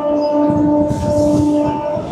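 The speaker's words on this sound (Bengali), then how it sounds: "আর সেই সাথে ভো হর্ন বাজিয়ে চলে চলেছে আমাদের ট্রেন।" A passenger train on the Sealdah–Taki line in West Bengal sounds a sustained, loud horn tone over the rumbling clatter of the moving carriages, heard from on board with no talk.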